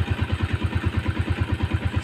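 Close up, a motorcycle sits idling after its timing gear was replaced, its steady rhythmic putter of fast, even firing pulses running unbroken and fairly loud, with no voices.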